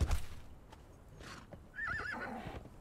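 A horse whinnies during a ride in the Conan Exiles video game, a wavering neigh rising clearly in the second half after some soft hoof and movement sounds.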